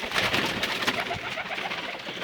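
Several pigeons coo softly and repeatedly close by, their low throaty calls overlapping in a continuous murmur.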